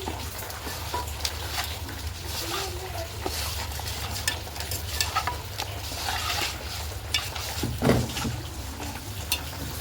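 Biryani masala mixture with whole spices being stirred in a pot for chicken dum biryani, a continuous gentle sizzle with frequent scraping and clinking of the spoon, close and steady.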